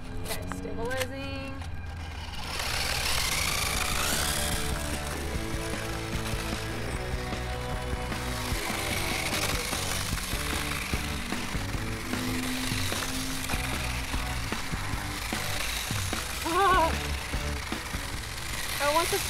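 A 1/6 scale RC Ducati motorcycle running, its small motor giving a steady whirring, gear-like whine that rises and falls with the throttle for the whole stretch, with a person talking over it.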